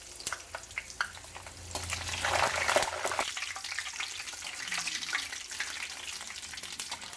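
Rice flour vadiyalu hit hot oil and sizzle steadily, with a brief louder surge of bubbling frying soon after they go in, then a softer continuous crackle.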